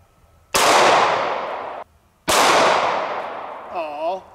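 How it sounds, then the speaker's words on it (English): Two loud, sharp gunshots from a .500 Magnum revolver fired at eggplants outdoors, each a sudden close blast with a long ringing decay, followed by a brief voice. "Now let's shoot a few eggplants."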